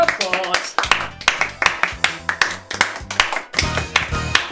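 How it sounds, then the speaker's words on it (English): Clapping during an online kids' church session comes as rhythmic bursts of handclaps and taps, near and fairly loud, with voices mixed in. "Let's give yourselves and them a big round of applause."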